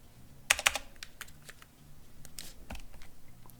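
Computer keyboard being typed on while setting up a Raspberry Pi 3 retro gaming system: a few sharp clicks, then lighter irregular keystrokes, close and fairly quiet with no talking.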